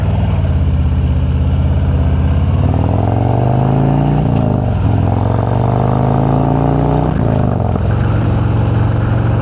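Engine exhaust popping while driving along a road: a loud, continuous engine drone fills the whole stretch, broken twice by short, sharp dips and cracks. No one speaks.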